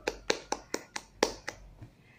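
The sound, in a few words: classroom clapping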